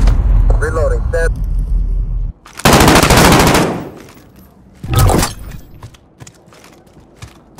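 Call of Duty gunfire from a Kilo weapon: a loud sustained automatic burst lasting about a second, then a shorter second burst, with game voice and radio chatter before and between.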